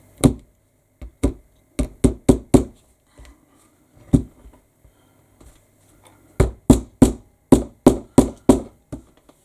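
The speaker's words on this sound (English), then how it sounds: "I like to get my little hammer out" A small hammer taps a metal snap fastener onto a fabric sling bag, giving sharp, close knocks in uneven clusters: scattered single strikes first, then a quick run of about ten steady taps.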